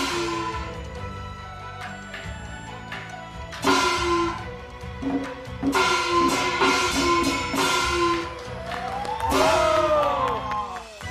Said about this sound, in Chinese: 这个有掌声